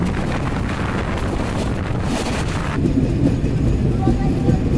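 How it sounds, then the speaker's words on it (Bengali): Kopotakkha Express intercity train on the Khulna–Rajshahi run, pulling into Azimnagar railway station in Bangladesh: a loud, steady rumble of rolling wagons with heavy wind buffeting the microphone, shifting in tone partway through. "আন্তনগর কপোতাক্ষ এক্সপ্রেস 3:18 প্রবেশ করছে তার প্রথম যাত্রাবিরতি স্টেশন আজিমনগর রেলওয়ে স্টেশনে"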